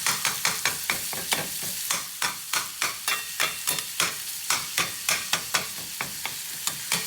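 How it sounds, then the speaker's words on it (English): Chopped beef frying in a pan for an omelette, with a steady sizzle and a run of regular scraping, stirring strokes from a utensil, close and fairly loud, with no talking. "the chopped beef into the frying pan. I'm going to spread it out in the pan, let it cook on one side"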